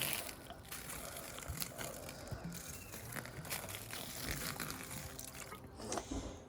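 Tap water is poured from a bottle onto a compost pile, making a close, continuous trickle and splash. Crinkly rustling is mixed in, and nobody speaks.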